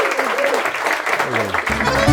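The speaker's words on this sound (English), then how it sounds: "big round of applause for a wonderful dancer and her mum here as well" Audience clapping for an Irish dancer at a rambling house show, a brief burst of applause mixed with voices talking over it, ending abruptly.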